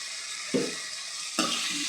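Egg manchurian sizzles steadily in a frying pan, with two soft scraping strokes of a spoon stirring through it, close and fairly loud, and no voices.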